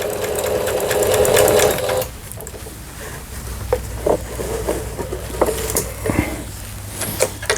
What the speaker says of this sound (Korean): 각종 기능들 정상적으로 박음질되는 거를 보실 수가 있습니다.